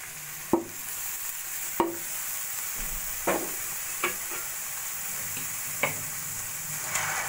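Boiled, drained cabbage tossed into spice masala frying in a pan: a steady background hiss of sizzling oil broken by half a dozen crisp spatula taps at irregular intervals.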